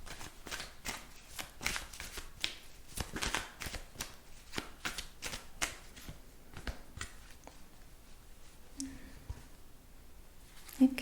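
Tarot cards being shuffled by hand during a close-up ASMR card reading, a steady run of soft papery riffles and flicks for several seconds that thin out toward the end, with no talk.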